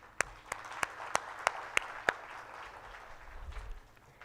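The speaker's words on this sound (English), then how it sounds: "all of us, a big round of applause for today's session" About seven sharp, evenly spaced hand claps ring out in a slow steady rhythm, loud and distinct against a quiet room, as an audience counts in applause for a session; a soft murmur follows.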